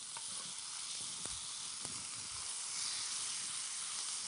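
Chicken pieces sizzle steadily in a hot, dry frying pan without added liquid, a close, continuous frying hiss with a couple of faint clicks and no talking.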